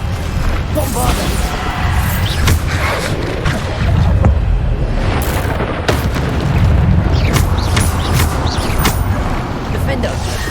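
Bombarda spell explosions in Hogwarts Legacy during a hard-mode trial battle, repeated booming blasts and crashes over a busy combat din, loud and dense, with spoken spell incantations throughout.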